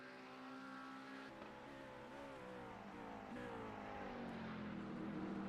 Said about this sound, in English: he is just going to nose that Lamborghini right into the tire barrier